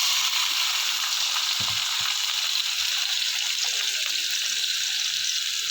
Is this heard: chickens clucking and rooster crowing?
no